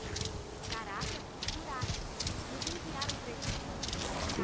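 A horse in a video game clip-clops at a steady trot, its hoofbeats rhythmic and clear while someone talks over them.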